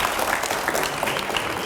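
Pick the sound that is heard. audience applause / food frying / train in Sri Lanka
audience applause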